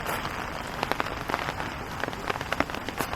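Steady rain on Sado Island in Niigata, Japan, patters hard on surfaces close by, with dense, irregular drops and sharp splashes throughout. No voices are heard.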